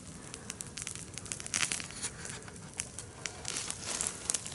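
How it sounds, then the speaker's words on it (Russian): Campfire burning in a cold forest, with dense irregular crackles and pops over a steady noisy hiss, close and moderately loud throughout. "А налево костер горит."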